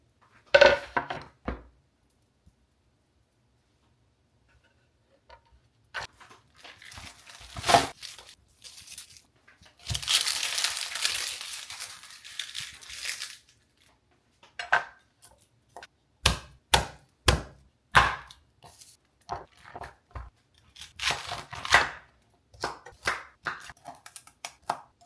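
A knife chops vegetables on a cutting board in kitchen prep for chickpea Italian soup, with irregular clusters of sharp taps and a longer scraping stretch, close and clear, with no talking.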